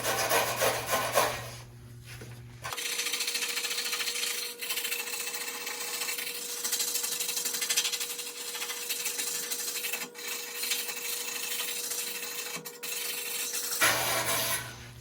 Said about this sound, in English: I'm gonna scrape it off.